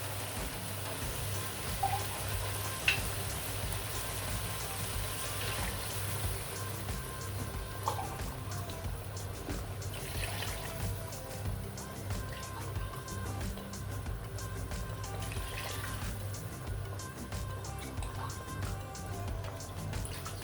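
Water pours into a pot of chicken kabsa cooking with tomato paste, giving a continuous liquid splashing and filling sound under steady background noise.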